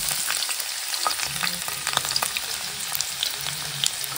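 Tempering spices crackle and sizzle in hot oil for a crab curry, a close continuous frying hiss dotted with sharp pops and spatters.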